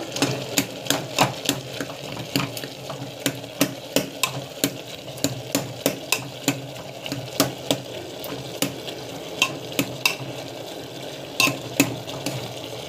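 A spoon scrapes and clinks against a pot in a steady, quick rhythm of repeated strokes, with faint sizzling underneath and no talking.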